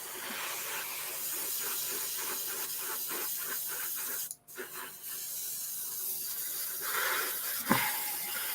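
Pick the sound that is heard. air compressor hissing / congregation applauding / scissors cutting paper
air compressor hissing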